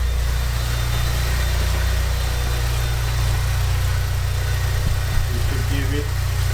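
A Saab 9-5 with an upgraded A20NFT turbo engine idles with a steady low rumble and even vibration, close by and continuous, a brief faint chirp near the end.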